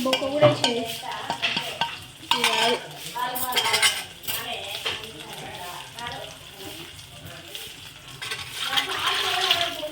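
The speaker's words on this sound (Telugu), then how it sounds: "దీన్ని కొద్దిగా ఫ్రై కావాలి" Brain frying in a pan over a low flame during home cooking, with steady sizzling and repeated spoon scraping against the pan, close and fairly loud.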